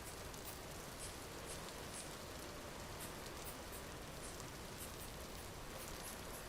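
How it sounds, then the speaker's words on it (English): Steady rain falls in a hardcore survival video game, a dense, even hiss with constant patter of drops continuing throughout, faint overall and with no voices. "It's hard to see with this rain."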